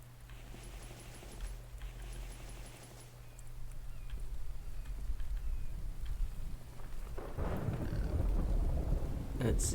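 Steady rain falls in the survival video game The Infected while thunder rumbles low and swells louder toward the end, with no speech over the constant wash of noise.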